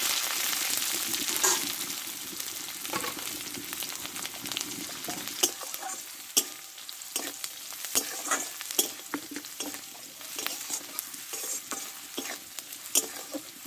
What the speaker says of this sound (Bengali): পেঁয়াজটা দিয়ে আমি একটু ভালো করে ভেজে নেবো